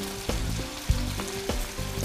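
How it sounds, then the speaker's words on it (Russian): Food frying in a pan gives a close, continuous sizzle, broken by a few sharp clicks and knocks from handling the pan or utensils. "Мы будем ее обжаривать по 3 минуты с каждой стороны."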